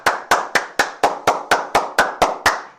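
Eleven sharp hand claps in a steady, even rhythm, close and loud, with nothing else in between.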